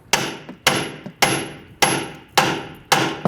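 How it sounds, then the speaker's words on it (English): A hammer repeatedly strikes the front steering knuckle of a 1994-2004 Ford Mustang to shock it free of the lower ball joint. Six loud, ringing metallic blows land at a steady pace, close by and with no talk. "Now I wanna hit the knuckle, and what I wanna do is go ahead and separate the knuckle from the lower ball joint."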